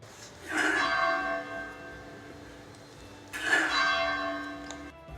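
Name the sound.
church bell ringing on the Semarang coast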